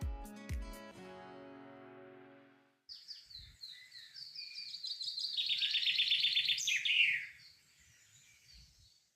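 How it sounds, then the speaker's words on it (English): After a brief musical intro, a small bird sings a rapid, bright warbling song, fairly close and clear, then it tapers off. "I don't know what kind of bird that was, but I recorded that little clip"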